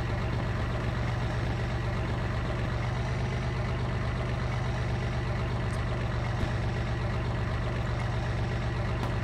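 A bomb car idling in the military video game Project Reality, a steady low engine rumble held constant throughout with a couple of faint clicks, no voices.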